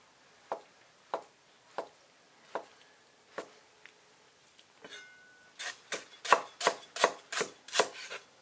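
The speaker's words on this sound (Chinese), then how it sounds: "切点豆腐一炖" A knife chopping tofu on a board, first as a series of evenly spaced single chops and then as a faster, louder run of close cuts toward the end.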